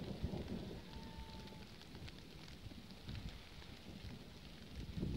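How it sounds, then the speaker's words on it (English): Rain falls outdoors before a storm as a faint, steady patter and hiss with a soft low rumble underneath, continuous and without speech. "there's a bit of a rain going down my back of my neck"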